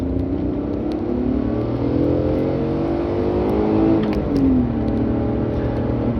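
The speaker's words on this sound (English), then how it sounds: "I'm gonna take the car for a drive now" An Alfa Romeo 156 engine hums and revs steadily from inside the moving car, pitch rising and falling as it accelerates and shifts gears.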